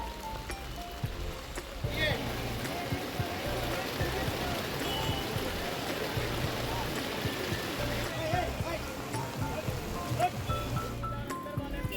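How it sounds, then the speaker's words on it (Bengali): Heavy rain pours on a waterlogged Kolkata street in a dense, steady wash that lasts throughout, with voices faintly audible underneath. "দেখুন কি অবস্থা বৃষ্টিতে, মানে এত বৃষ্টি ভাবতেই পারিনি যে এভাবে বৃষ্টি নামবে।"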